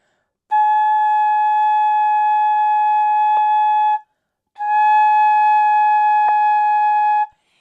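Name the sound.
flute played with oval embouchure, tongued 'too' sound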